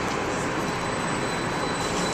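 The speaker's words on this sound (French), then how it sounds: "il y a un tramway" A city tram rolls past close by with a constant roaring rumble of wheels on rails and a thin, high squeal riding above it the whole time.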